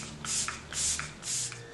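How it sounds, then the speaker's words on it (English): Makeup setting spray is misted onto a face in three quick, close, soft hissing bursts at an even rhythm, with no talking. "just you wait when I spray this magic spray all over my face."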